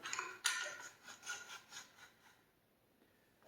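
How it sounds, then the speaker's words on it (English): Bolt of a Charles Daly AR12S shotgun slid back into the receiver: a sharp metal click followed by several rhythmic rasping slides, close and fairly faint, ending in quiet. "Put the bolt back into the receiver."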